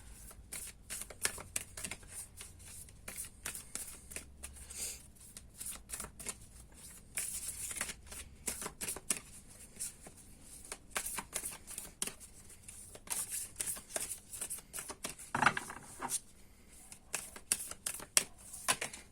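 Tarot cards are shuffled repeatedly, quick soft riffling and flicking bursts close by, with brief pauses between rounds.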